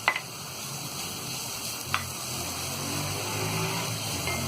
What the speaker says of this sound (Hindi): कुछ सेकंड के लिए हल्का सा फ्राई करेंगे